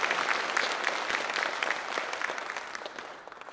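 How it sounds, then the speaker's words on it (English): Applause for a panel at a policy forum on countering transnational repression, a steady wash of many hands clapping that holds for a few seconds before thinning out toward the end. "So the esteemed panel, and please give them a round of applause."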